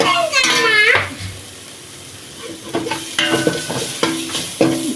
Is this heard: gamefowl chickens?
no